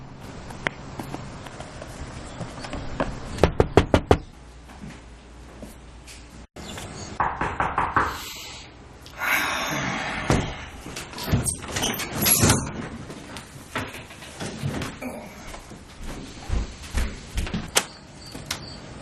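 Knocking on a house door during a church skit about door-to-door invitations, with short bursts of sharp raps near the start and later, mixed with door and shuffling sounds, loud and close.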